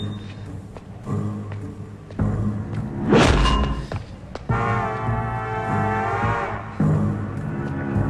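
Punches and blows land in a climactic movie fight scene from the Telugu film Businessman, heard as heavy thuds and whooshing impacts, with strained shouting voices between the hits.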